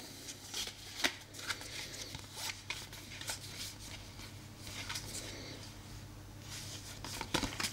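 Cards from a Wild Assent board game box are handled close up and faintly, with soft papery slides, flicks and taps scattered irregularly over a quiet room background.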